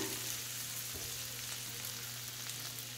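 Half a large chopped onion sautés in melted butter with a drizzle of olive oil, giving a soft steady sizzle under a low hum, with a faint knock partway through.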